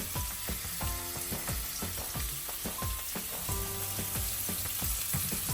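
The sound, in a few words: chopped onions frying in a pan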